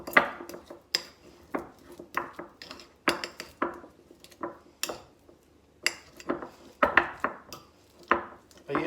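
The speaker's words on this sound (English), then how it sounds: "get a fork and mix all that up" A fork clinks and scrapes against a bowl in repeated quick strokes while mixing softened butter with chives and garlic, close up and crisp, with short pauses between bursts and no talk.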